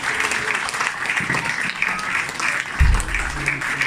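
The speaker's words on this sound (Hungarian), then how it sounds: "Nekik is kérünk egy nagy tapsot" An audience applauds at a community event, with dense steady clapping filling the scene at moderate distance and some low rumble and a voice or two faintly underneath.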